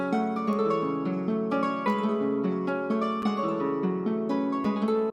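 Piano plays higher melody notes on top of a lower bass line, the two moving together in a short, even phrase that ends abruptly.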